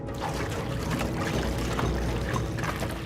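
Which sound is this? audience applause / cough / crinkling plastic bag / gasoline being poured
gasoline being poured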